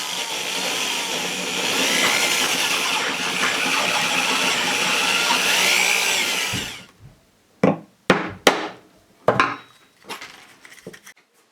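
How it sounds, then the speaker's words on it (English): A power drill bores a 3/4 inch hole into the top of a bowling ball, a loud, steady whining grind for several seconds, then stopping and followed by a few sharp clanks and knocks. "Now I'll drill a 3/4 inch hole in the top for the fuse."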